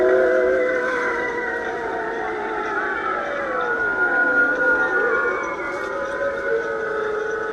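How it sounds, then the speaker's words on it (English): Motion-activated spooky sound effects play from a vintage Halloween haunted house inflatable, a wavering, siren-like eerie tone that rises and falls continuously over a faint background. "flashing lights for lightning, and motion activated sound effects"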